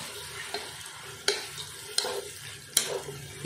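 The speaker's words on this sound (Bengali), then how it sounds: "পেঁয়াজটা দিয়ে মোটামুটি 10 থেকে 15 মিনিট মতো পেঁয়াজটাকে একটু" About 500 grams of onions frying in a pan for chicken biryani, a steady soft sizzle punctuated by four or five sharp spatula scrapes and stirs, no talking.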